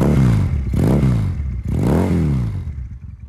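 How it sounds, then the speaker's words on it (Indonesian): Loud, close exhaust of a custom street bobber Benelli Patagonian Eagle 250 motorcycle, blipped in three repeated revs that rise and fall with a deep, rumbling tone. "Ini suara knalpotnya teman-teman."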